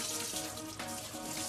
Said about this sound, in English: what I'm gonna do now is just rinse off the dust and the starch